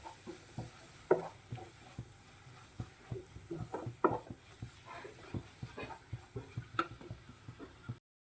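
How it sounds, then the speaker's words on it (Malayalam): Black pepper powder and masala roast in a pan while a spoon stirs steadily, making rhythmic scraping strokes over a low, continuous sizzle. "കുരുമുളക് പൊടി നല്ലവണ്ണം റോസ്റ്റ് ചെയ്യണം"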